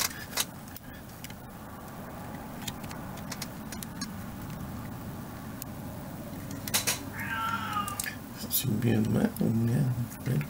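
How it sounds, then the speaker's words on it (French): A cat meows loudly nearby, a single drawn-out call rising over steady background noise during a dash cam battery replacement, followed by a brief voice-like sound. "Bon, le chat qui s'en mêle."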